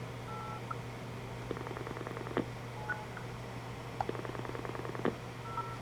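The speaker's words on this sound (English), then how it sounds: "You can hear pulse dialing." Pulse dialing on an analog Polycom SoundStation conference phone, short bursts of rapid clicking pulses separated by pauses, faint and close over a steady low hum.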